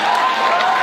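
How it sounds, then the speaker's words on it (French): A crowd applauds a comedian on stage, a dense, loud wash of clapping heard briefly and evenly throughout. "On applaudit,"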